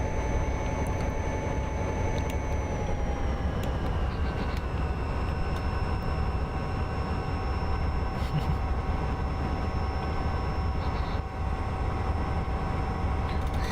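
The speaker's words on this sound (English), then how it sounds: "Also seems to be an iron ore train." In the Railworks train simulator, a BN iron ore freight train with three locomotives rumbles past. A deep continuous roar sits under steady engine drones that dip slightly in pitch, with sharp clanks and squeals scattered throughout.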